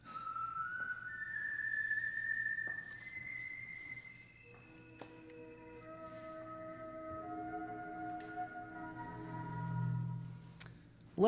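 A melodic whistled theme for The Whistler radio mystery program, sponsored by Signal Oil, heard alone as a clear rising then falling tune of sustained notes over a low hum, ending with a sharp click.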